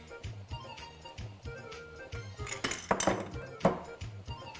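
A spoon clinks and scrapes against a pot of frying carrots and sultanas, with light, uneven metallic taps and a few louder clinks, faint and close, over a low background hum.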